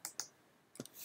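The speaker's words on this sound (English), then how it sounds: "This is simply possible by clicking while holding B." A computer mouse clicking during 3D modelling software work, two quick close clicks followed by a third after a short pause, crisp and quiet in an otherwise silent room.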